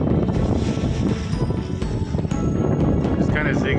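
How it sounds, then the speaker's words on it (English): Wind gusts hard across the microphone while a Hughes Columbia 8.7 sailboat crosses Georgian Bay, a loud, steady rumbling buffet with water wash beneath, continuous throughout. "Oh, the wind's picking up."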